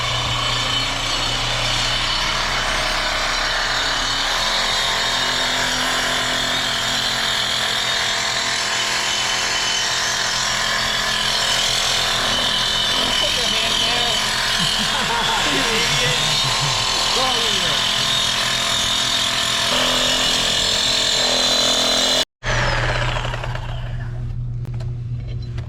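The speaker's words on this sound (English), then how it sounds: "So we're cutting everything off of the manifold that doesn't need to be." Power tool cutting away unneeded sections of a custom Toyota 1JZ VVT-i intake manifold, a loud, steady high-pitched whine and grind that runs continuously for about twenty seconds, then stops abruptly before a quieter tail.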